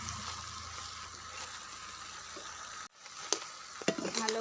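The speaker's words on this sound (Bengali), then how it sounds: "ভালো করে এটাকে মশলাটাকে মিশিয়ে নিয়েছি এর সাথে" Pumpkin greens are stirred with stone-ground spice paste in a pan, giving a steady low sizzle and soft scraping strokes, then a short pause followed by a few sharper clicks and knocks near the end.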